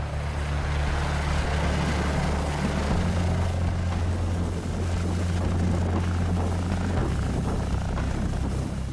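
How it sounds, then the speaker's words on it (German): A rescue helicopter thunders nearby, landing on a ski slope in the Black Forest, its rotors producing a loud, continuous low thrum that stays steady throughout as it comes down. "Gleich landet der Helikopter."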